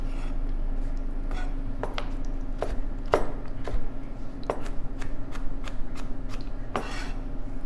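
A kitchen knife dices carrot sticks on a cutting board for corn chowder, giving a run of sharp, close taps at an uneven pace over a steady low hum, with no one talking.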